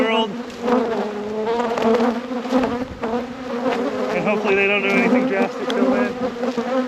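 A dense swarm of honeybees buzzes loudly and continuously during an after-winter hive inspection, with a close, wavering drone that shifts in pitch as individual bees pass near.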